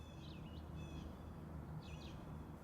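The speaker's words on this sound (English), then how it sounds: "we're outdoors, so we're likely to hear birds and a gentle breeze. So that's the sound effect we start with." Birds calling faintly over a steady breeze-like wash of low rumbling noise, used as an outdoor radio drama sound effect; a few short chirps rise above the constant background.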